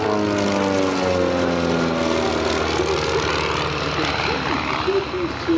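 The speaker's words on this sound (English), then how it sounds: "Showcase to us the great flying characteristics of this advanced RV-8." An RV-8 two-seat experimental airplane flies an airshow display at EAA AirVenture, its propeller engine droning loudly then shifting pitch as it passes, with a commentator's voice partly audible under the engine.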